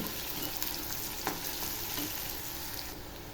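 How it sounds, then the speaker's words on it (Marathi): Onion and curry leaves sauté in hot oil for a dry cauliflower bhaji, a steady close sizzle with soft crackles and the occasional scrape of stirring throughout. "कांदा चांगला तेलामध्ये परतून घ्यायचा"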